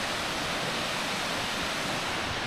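A waterfall beside a mountain path roars as a steady, dense broadband rush, loud and continuous throughout with no talk.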